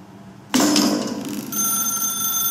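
A telephone in The Stanley Parable suddenly starts ringing with a loud, bright electronic bell tone that sustains steadily after an abrupt onset.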